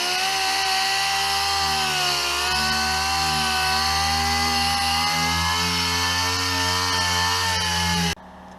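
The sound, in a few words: sanding truck body with 220 grit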